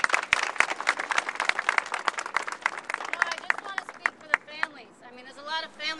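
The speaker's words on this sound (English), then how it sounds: "let's give her a round of applause" An audience at a neighborhood rally claps in a burst of brisk, scattered applause that thins out and fades, with a voice emerging near the end.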